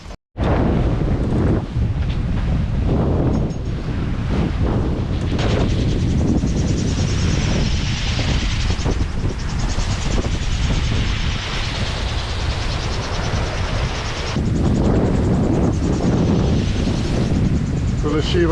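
Strong wind roars across the microphone aboard a sailboat on the Ionian Sea, a loud, continuous buffeting rumble with gusty surges and a brief dip near the end.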